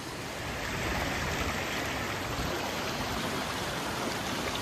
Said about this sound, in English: This is the waterfall we want to check out, is along here.